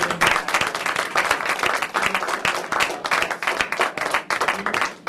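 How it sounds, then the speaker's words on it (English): Applause from a workshop audience in a Japan teaching session, a dense, steady round of many hands clapping at close range throughout, with no speech over it. "I just want to give a warm round of applause for our speakers today."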